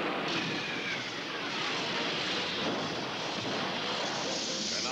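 An airplane engine drones in a steady, loud roar that fills the scene without a break, a dense continuous rumble with no speech over it.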